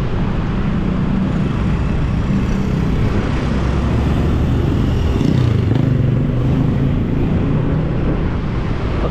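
Steady traffic noise while driving along Raya Basangkasa Street in Seminyak, Bali, with a continuous low engine and road rumble and passing motorbike sounds, no talking.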